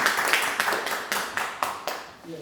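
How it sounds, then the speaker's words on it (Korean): Scattered clapping at a small citizens' lecture in a coffee shop, a handful of distinct claps standing out over a thinner patter that fades toward the end. "큰 박수 부탁드리겠습니다"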